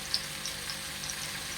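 Al faham chicken frying gently in a pan on a low stove flame, giving a soft, steady sizzle with a few faint pops and no talking.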